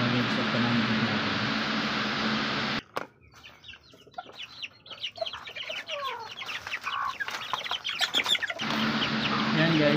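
Backyard hens and young chickens cluck and chirp close by in an irregular chatter, preceded by a few seconds of loud broadband noise that cuts off abruptly.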